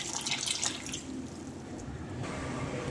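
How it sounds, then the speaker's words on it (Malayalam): Water poured into a pan of curry seasoned with turmeric and salt, a steady close splashing wash that is strongest early and then settles into a continuous pour with no talking. "കറിക്ക് വേണ്ടത്ര വെള്ളം കൂടി ഒഴിച്ചു കൊടുക്കാം."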